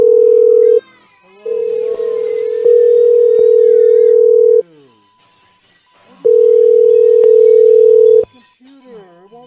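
A loud, steady telephone tone sounds in three long stretches with gaps between, while a person calls out in the pauses.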